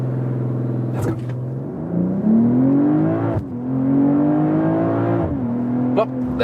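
A 2023 BMW M340i makes a launch-control start, its engine pulling hard with rising revs through several gear changes, loud and close, with a brief dip at each shift.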